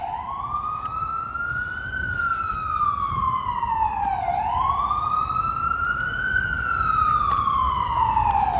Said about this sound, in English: We got New York sirens.